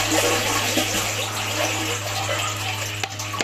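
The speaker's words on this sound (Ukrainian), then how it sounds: "Давайте зараз сюди так поставлю і будемо заливати в оприскувач" Liquid fertilizer pours steadily into a crop sprayer tank for wheat feeding, a close, continuous gushing splash of water-like liquid with a low steady hum beneath it and no talking.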